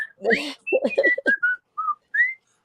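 A person whistles in imitation of the cartoon wolf from Droopy, a series of short sliding notes and glides with brief gaps, close and clear with no talking.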